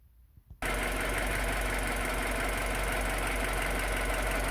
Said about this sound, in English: So now I'm going to start the engine and see what happens